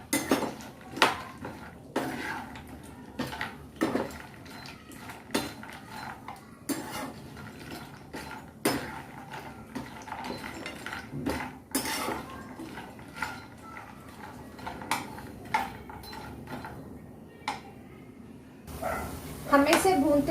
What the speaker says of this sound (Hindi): इसको हल्के हाथ से हिलाते हुए हम घी में इसे भून लेंगे